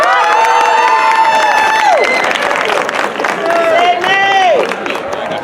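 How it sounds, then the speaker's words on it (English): An outdoor community celebration crowd in Seaside, California applauds and cheers for a performer, loud clapping mixed with whoops and shouting, while a voice speaks over the noise. "Please give a round of applause to Sydney Johnson."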